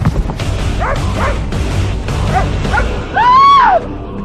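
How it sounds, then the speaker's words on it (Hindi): Several short dog yips and barks in quick succession, ending in a longer, louder whining howl, all over steady background noise. "उस बॉक्स से भौंकता हुआ कमरे के बाहर भाग गया"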